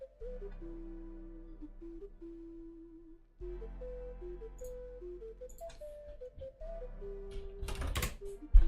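Faint computer keyboard typing while writing C++ code, with sparse soft key clicks under steady electronic background tones, growing busier near the end.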